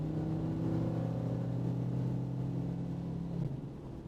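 A 1976 Pontiac Trans Am V8 drones with a deep, steady engine note under a little throttle, heard close from inside the car and easing off near the end.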